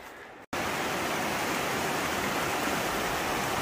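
A stream flows along the Appalachian Trail in the Pond Mountain Wilderness, steady broadband rushing water close by, continuous and even after a brief gap at the start.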